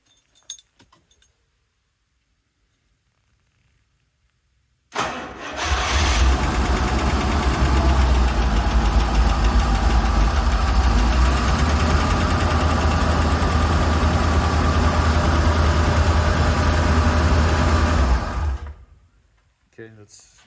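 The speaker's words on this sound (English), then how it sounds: "So let's see if everything's fine after I start the engine." A Rolls-Royce Silver Shadow engine turns over and settles into a steady, loud idle that runs for several seconds before cutting off.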